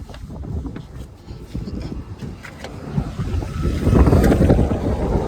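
Strong wind beside a truck near a petrol pump buffets and roars across the microphone in gusts, growing louder and rougher toward the end.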